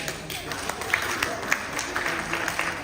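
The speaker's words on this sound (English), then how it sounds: "Clap once if you can hear me." An audience at a leadership conference and awards event claps in response, loose scattered hand claps from many people in a large room rather than one crisp unified clap.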